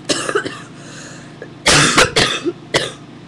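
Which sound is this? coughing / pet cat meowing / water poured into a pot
coughing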